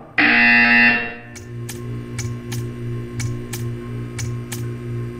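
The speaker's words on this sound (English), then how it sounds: "You will hear a buzzer." A loud electronic buzzer sounds for about a second in the video game Portal 2, then stops, leaving a low hum with a series of soft regular ticks.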